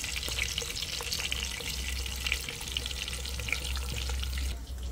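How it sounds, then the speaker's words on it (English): Steady crackling sizzle of eggs frying in hot oil, close and continuous, with no talking. "I put it in the oil and fry it up like this."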